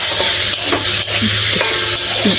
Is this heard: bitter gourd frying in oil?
yes